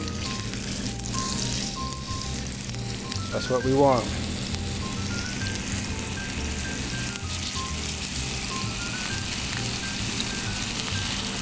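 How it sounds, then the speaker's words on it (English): Steady hot-pan sizzle of venison searing, continuous crackling hiss throughout with a brief voice speaking over it near the start. "Hear that sizzle?"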